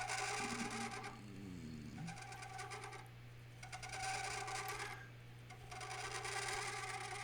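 Bursts of rasping, scraping shavings as a bowl gouge shear-scrapes a crotch live oak bowl spinning on a lathe, repeated passes of about a second each separated by brief pauses over a steady motor hum.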